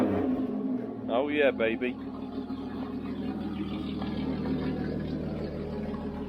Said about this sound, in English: Should we give it a little rev?